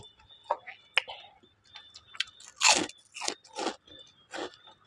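Pork rinds are bitten and crunched while eating khao soi: a series of loud, sharp crunches and chews close to the mic, separated by short pauses.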